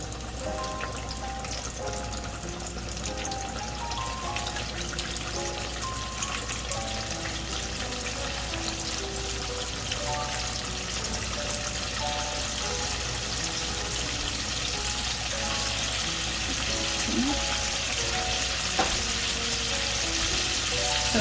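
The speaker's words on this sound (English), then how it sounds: "It's already hot, so I'm just gonna put the chicken pieces in now." Chicken pieces fry in a pot of deep hot oil, giving a steady, continuous sizzle and bubbling hiss that runs unbroken throughout, with faint tonal background sounds underneath and no talking.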